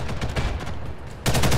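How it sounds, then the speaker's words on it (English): Handgun fire in the shooter game Ghost in the Shell: First Assault, a steady dense burst of rapid shots that continues throughout and grows louder and closer near the end. "The handgun is a little bit good. It's actually pretty good in this game, mostly because of the high fire rate."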